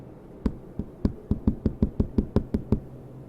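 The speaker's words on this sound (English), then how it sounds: "someone started knocking from behind the door." Knocking on a door from the far side, about a dozen sharp raps in an uneven run, clear and fairly close with no voices.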